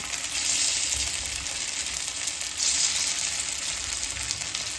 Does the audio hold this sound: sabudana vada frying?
yes